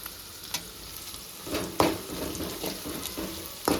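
Dry red chillies fry in sizzling tempering oil in a pan for bitter gourd curry, with a few sharp clinks and scraping stirs breaking through the crackle.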